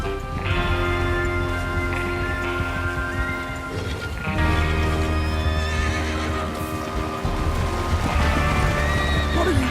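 Horses in the video game Red Dead Redemption 2 whinny and neigh over a steady bed of hoofbeats and tonal game music, loud and continuous, with no one speaking.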